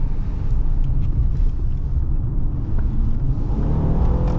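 Deep, steady engine rumble heard from inside a 2015 Honda Pilot LX 4WD SUV revving as it accelerates, holding a low roar throughout with no voices.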